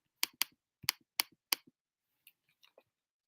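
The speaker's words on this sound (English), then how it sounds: "I'm just typing it." A handful of crisp keyboard key clicks in quick irregular bursts, close and clear against near silence, with a few softer taps trailing off.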